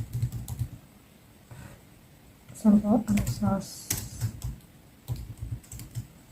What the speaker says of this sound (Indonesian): Untuk sum itu kita bisa ngetik nama filenya